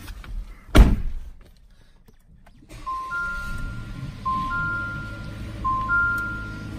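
The door of a 2019 Jeep Compass Trailhawk thuds shut once, loud and close, followed by a quiet cabin where a soft repeating chime sounds several times.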